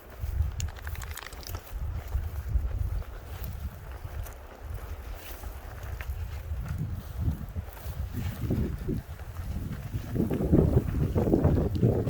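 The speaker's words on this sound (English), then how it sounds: "Of course it gets windy." Gusty wind buffets the microphone outdoors on a trail, rising and falling in low rumbling surges that build louder toward the end, with no voices.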